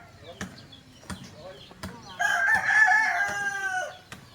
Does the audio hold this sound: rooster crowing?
yes